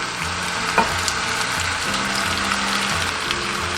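Eggs and mushrooms fry in a wok with ginger slices and garlic whites, giving a steady, close crackling sizzle that holds for the whole stretch without speech.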